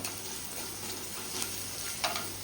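Steady loud sizzle of green chili and curry leaves dropped into hot oil where mustard seeds have just spluttered, a continuous close frying hiss with a few sharper crackles.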